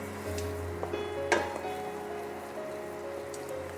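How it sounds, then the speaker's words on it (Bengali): Jaggery for a puffed rice cake cooks in a pan with a constant bubbling hiss, and a single sharp scrape of the spoon stands out as it is stirred nearby. "এটাকে কন্টিনিউ নাড়াবো।"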